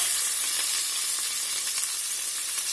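Beef stew meat browning in a pot, giving a steady, close, loud sizzle and frying hiss that runs unbroken throughout with no talking.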